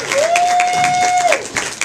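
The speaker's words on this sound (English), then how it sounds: "Give her a big round of applause, ladies and gentlemen" A crowd claps at a charity penny auction, brisk applause with a few louder hand slaps, joined by a whistle-like cheer held for about a second.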